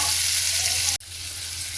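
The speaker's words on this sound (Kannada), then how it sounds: "ಇದನ್ನು ಎಣ್ಣೆಲಿ ಸ್ವಲ್ಪ ಫ್ರೈ ಮಾಡಿಕೊಂಡು ಇವಾಗ ಪನ್ನೀರನ್ನ ಸೇರಿಸೋಣ" Small cubes of paneer frying in oil give a loud, dense sizzle that cuts out abruptly for an instant, then resumes slightly quieter.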